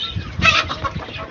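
Desi country chickens and a rooster on a city rooftop in Chennai give a few short, close clucks in quick succession, with no talking.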